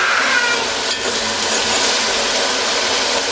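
Two or three garlic cloves fry in a pan with meat, giving a loud, continuous close-up sizzle that holds steady from start to finish without any voices.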